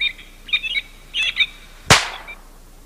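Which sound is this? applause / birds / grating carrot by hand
birds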